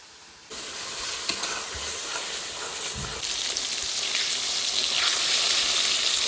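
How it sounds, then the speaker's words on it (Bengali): Fish dropped into hot oil at a village picnic cookout, a loud steady sizzle that jumps up after a short quiet start and continues dense and close throughout, with no talk. "তেল গরম হয়ে গেছে, এবার মাছ দিয়ে দেবো।"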